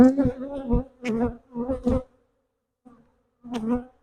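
Honey bees buzz close by around an open hive in short, loud, droning bursts that come and go, with a brief quiet gap before a final buzz.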